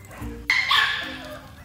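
Yorkie puppies in Georgia give a brief burst of high yips and whimpery barks, close and fairly loud, with a voice murmuring faintly underneath.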